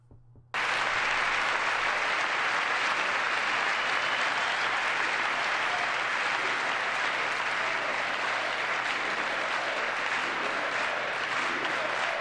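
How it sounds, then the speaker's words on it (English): Gallery applause during a State of the Union address, a sustained wash of many hands clapping heard at a distance, steady and even from start to finish after a brief quiet opening. "They're even clapping it in the gallery."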